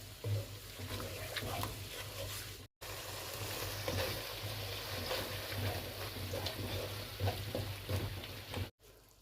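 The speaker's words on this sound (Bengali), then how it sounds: "জল দিয়ে এটাকে মশলাটাকে ভালো করে একটুখানি কষিয়ে নিতে হবে।" Spice paste mixed with poppy seed paste sautéing in a pan with a splash of water, a steady close sizzle and bubbling with scraping stirs, two brief dropouts breaking the continuous sound.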